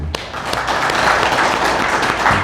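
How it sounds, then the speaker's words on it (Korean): Loud, close applause fills a Sunday church service as the congregation claps for retired elders, a dense continuous burst of many hands that holds steady throughout. "박수."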